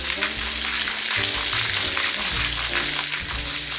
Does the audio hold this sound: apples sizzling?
yes